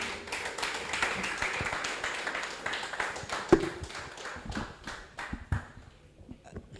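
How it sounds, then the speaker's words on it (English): Audience clapping at a Lagos commodities exchange listing ceremony, a dense patter of hand claps at moderate distance that thins out toward the end into scattered claps. "A round of applause, please."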